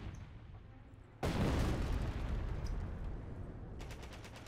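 Gunfire and explosions in the real-time strategy game Company of Heroes erupt suddenly after a quiet stretch. A loud burst is followed by sustained rumbling battle noise that slowly eases.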